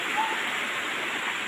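Water pours steadily through a village sluice gate used for fishing in Chirang, Assam, a constant close rushing roar with no break or change.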